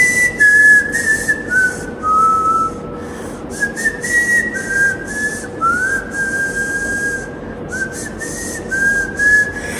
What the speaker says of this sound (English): I can whistle with my tongue.